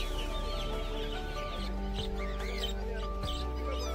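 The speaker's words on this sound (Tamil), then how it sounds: "இது சின்ன வாத்து." Ducklings and chickens at a busy Friday market in Pallavaram make high, repeated peeping chirps and occasional clucks, layered over a steady background hum and crowd murmur.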